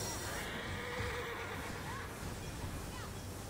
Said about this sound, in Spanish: ¡Llévame, caballo!